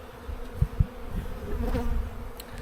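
Bees buzzing close around hive equipment, a continuous droning hum with a couple of soft thumps early on.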